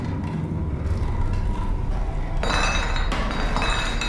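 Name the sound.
striking thick glass in the video game SOMA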